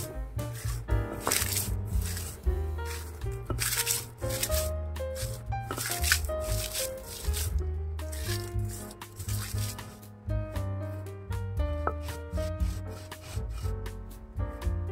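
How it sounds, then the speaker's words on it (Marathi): Garlic, green chillies and salt are crushed on a stone grinding slab, giving repeated rough rubbing and scraping strokes in a steady back-and-forth rhythm over tonal background music. "हे आता पाट्यावर वाटायचं"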